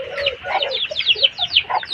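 Chickens cluck and chatter close by in a vegetable garden, a busy run of short, overlapping calls with no talk.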